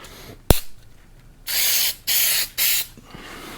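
Short bursts of spray paint lay a light dusting coat onto car emblems: a sharp click, then three hissing sprays of about half a second each, close and distinct with pauses between.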